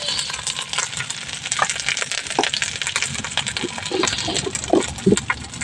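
Spice paste of ground coriander, cumin and chili with salt and turmeric frying in a pan, with steady close sizzling, scraping stirs and a few sharp clinks of a spoon against the pan.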